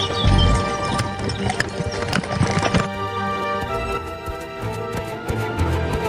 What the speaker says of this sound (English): Meanwhile, Puss raced ahead of the royal carriage.